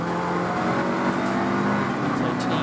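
A Golf race car at Snetterton circuit drives by on track, its engine a loud continuous roar that holds steady before rising slightly, with a faint commentary voice beneath.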